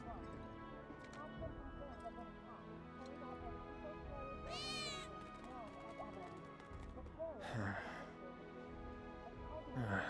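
Cats in Final Fantasy 7 Remake let out a couple of drawn-out, rising meows, heard over a continuous in-game background with a voice talking.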